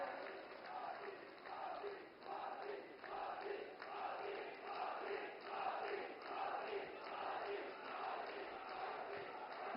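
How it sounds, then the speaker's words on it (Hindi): A large outdoor crowd at a Narendra Modi election campaign rally in Sagar, Madhya Pradesh claps and cheers in a dense, continuous roar of applause that is distant and band-limited through a public address feed. "जोरदार ताली बजा करके आप उनका वंदन करें"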